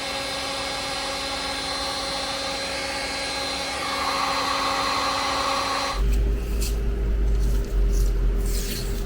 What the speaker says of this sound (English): I'm gonna grab my heat gun. I'm gonna heat these up very carefully.